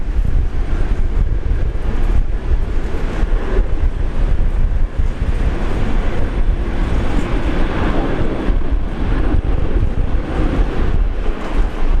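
A jet takes off at Brisbane International Airport in heavy rain, a loud, steady, broadband engine roar with a deep rumble that holds constant and close throughout, no speech over it.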